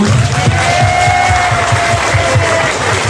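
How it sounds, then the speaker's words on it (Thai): Audience applause and cheering at a live anniversary fan event for EngLot, a dense, loud, continuous roar of clapping with shouts rising through it. "ปรบมือให้ตัวเองหน่อยได้ไหมคะ"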